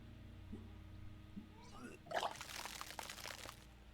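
Retching and splashing vomit of a character in the video game Disco Elysium, a brief gagging sound followed by a loud wet pour and slosh lasting a couple of seconds over a low game ambience.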